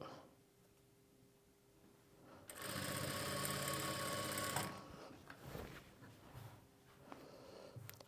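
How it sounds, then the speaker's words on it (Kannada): A sewing machine stitches an invisible zip in a single loud, steady run of about two seconds, with quieter handling sounds before and after. "ಈ ಫೋಲ್ಡಿಂಗ್ ಪಕ್ಕದಲ್ಲಿ ನೀವು ಸ್ಟಿಚ್ ಮಾಡ್ಕೊಳ್ಬೇಕು"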